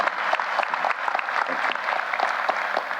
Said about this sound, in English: Let's give her a hearty round of applause.